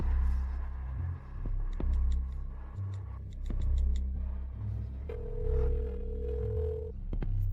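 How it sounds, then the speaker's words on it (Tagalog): A cellphone rings in a tense indoor drama scene, its repeating electronic tone sounding in bursts over low rumbling music and ambience, steady and moderately loud throughout. "Yul, sagutin mo ang cellphone"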